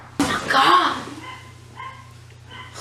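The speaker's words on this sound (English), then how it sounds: "You can probably hear my dogs barking in the background" Dogs bark indoors in the background in a short loud burst while someone speaks over them, then fainter barks and whimpers follow.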